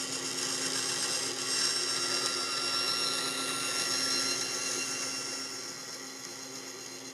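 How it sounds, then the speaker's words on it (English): A drill press motor whines steadily with a high mechanical hum, then gradually winds down as it is switched off. "Turn off our drill press"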